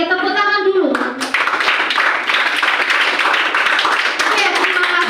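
Students in an Indonesian civics classroom clap their hands together after a short voice at the start, a loud, close, rapid burst of clapping that continues steadily.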